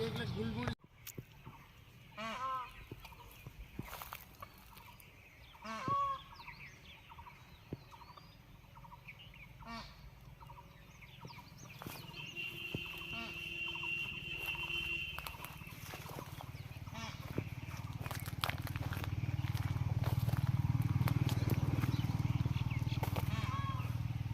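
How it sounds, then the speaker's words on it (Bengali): Birds call in a tea garden in the Dooars with scattered short cries and one drawn-out tonal call midway. A low rumble builds toward the end. "এখানে একটা পাখির আওয়াজ পাওয়া যাচ্ছে, আমি জানি না কোন পাখি"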